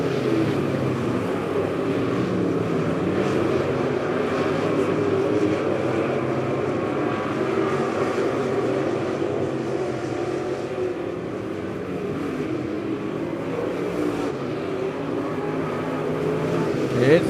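Race cars at Lebanon Midway Speedway on a July 4 feature night hold a steady, loud engine roar across the whole stretch, with no clear pass-bys standing out from the dense, continuous drone.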